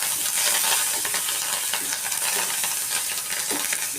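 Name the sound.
curry leaves sizzling in hot oil, Andhra curry tempering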